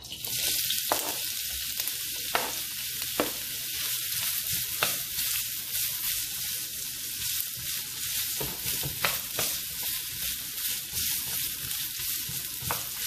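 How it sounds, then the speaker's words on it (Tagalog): Ginger sautéing in a pan for ginataang labong with saluyot and shrimp, with a continuous bright sizzle and frequent crisp crackles and spatula scrapes throughout, close and fairly loud. "gisa na tayo ng ginger o luya"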